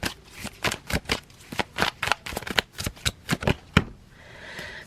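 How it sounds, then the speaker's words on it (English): A tarot card deck being shuffled, a rapid series of crisp riffling bursts close by, fairly loud and rhythmic, ending in a quieter trailing hiss. "I'm gonna shuffle again."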